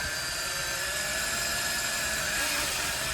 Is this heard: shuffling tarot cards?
no